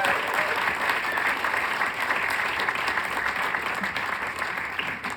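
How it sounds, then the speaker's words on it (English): Steady, sustained applause from an audience at a bookstore Q&A honoring jazz bassist Ron Carter, dense clapping filling the room at an even level throughout with faint crowd murmur underneath. "one more round of applause for someone I'm very happy that here is the great Ron Carter"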